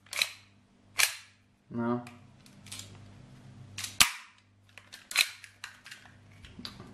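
Army Armament R28 silver CO2 gas blowback airsoft pistol firing and cycling, several sharp snapping shots and metallic slide clacks spaced irregularly, close up, with someone talking between them.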